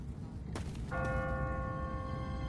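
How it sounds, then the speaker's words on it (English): A church bell tolls in the video game The Walking Dead: a single clear, ringing strike that sustains with long, steady overtones over a low, noisy background. "What kind of church bell goes off at 20 past the hour?"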